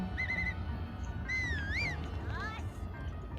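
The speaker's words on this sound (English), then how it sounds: "So that was me whistling" Link's short in-game whistle from Zelda: Breath of the Wild: a few bright, wavering rising-and-falling notes in quick succession over a low, steady game-world ambience, fairly quiet.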